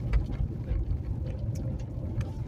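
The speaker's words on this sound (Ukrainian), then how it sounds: "Трактор їде напроти мене." Low engine rumble of a tractor driving past on a wide road, a continuous close motor drone with faint higher clatter, heard without speech.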